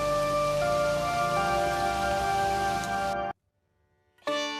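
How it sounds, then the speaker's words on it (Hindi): Heavy rain pours outside at night as an animation sound effect, a dense steady wash with a tonal hum, cutting to near silence for about a second before resuming. "बाहर बारिश अब और तेज हो जाती है।"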